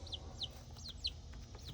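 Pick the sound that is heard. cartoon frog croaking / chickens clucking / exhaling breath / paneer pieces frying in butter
chickens clucking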